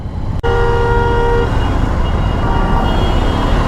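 Heavy road traffic in Pune fills the scene with a loud continuous engine roar, and a single short car horn toot cuts through near the start, with no voices.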